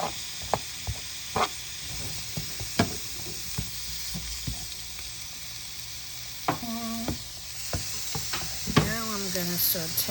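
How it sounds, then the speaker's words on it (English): Onions, peppers and other vegetables for a sofrito sizzle steadily in a pan, with intermittent clanks and scrapes from stirring. "Gonna saute the onions, the peppers, the rest of the veggies"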